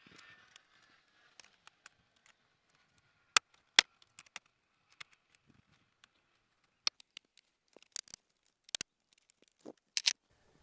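Plastic dashboard trim on a 2002 Chrysler PT Cruiser is pried up with a soft cloth around the instrument cluster bezel, producing scattered sharp clicks and small snaps, some close and crisp, separated by stretches of near silence.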